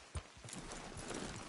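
Faint, quick horse hoofbeats clip-clop on a track over a low ambient background, brief and somewhat distant, in Red Dead Redemption 2.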